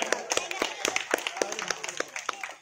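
An audience at a Durga Puja cultural evening claps loudly, a dense burst of close, sharp handclaps that tapers off within a few seconds.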